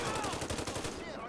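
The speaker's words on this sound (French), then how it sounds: "Ok les gars, ça tire là." Rapid gunfire from a shootout with hostage-takers in GTA 5, a dense run of shots rattling steadily through the whole moment with a loud, busy mix and a faint voice underneath.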